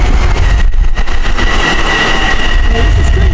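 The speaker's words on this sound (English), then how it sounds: "you got train 2050 coming with an M7 set" A Long Island Rail Road M7 commuter train of 10 cars rumbles loudly and close by, with steady rolling wheel noise and a faint high whine as it pulls into the station.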